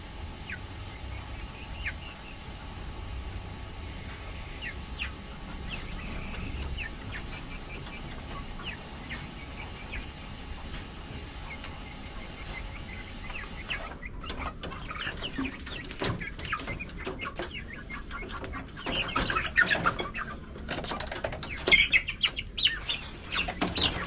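Backyard chickens cluck intermittently across a steady low hum, faint at first, then busier with rustling, scratching and a brief flutter of wings toward the end.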